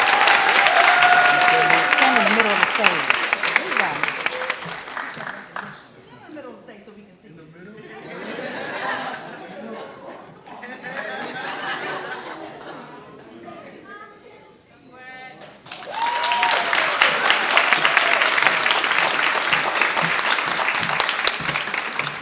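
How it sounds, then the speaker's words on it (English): Audience applause fills a hall at Bowie State University's nursing pinning recognition ceremony. Loud, dense clapping runs for about five seconds, gives way to talk, then a second sustained round of clapping returns and carries to the end. "So can we give him another round of applause?"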